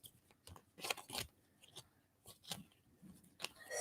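A deck of tarot cards is shuffled by hand, producing soft, scattered riffling and snapping bursts at an irregular rhythm, quiet and close with no talking.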